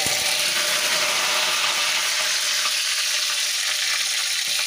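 Tempering of fenugreek, curry leaves, chillies, asafoetida and onion crackles loudly in hot oil for sambar, a dense continuous sizzle up close with no talking.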